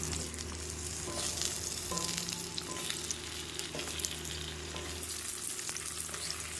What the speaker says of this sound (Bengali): এবারে আমি পটল আর আলুগুলিকে দিয়ে লাল লাল করে খুব ভালোভাবে ভেজে নেব